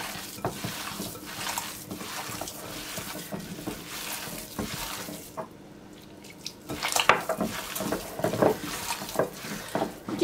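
Köfte meatball mixture is kneaded by hand in a bowl, giving soft wet squelching and slapping in a steady repeating rhythm, close and moderately quiet, with a brief pause midway.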